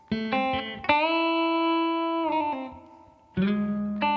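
Electric guitar with effects strums a chord that rings and sustains, then a few more chords are struck, close and fairly loud.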